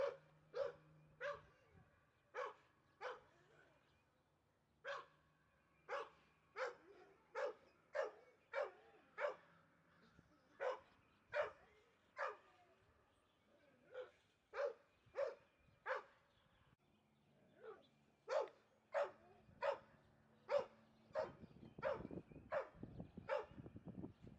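A long series of sharp, repeated dog barks, several dogs joining in, steady rhythmic bursts with brief pauses, fairly close.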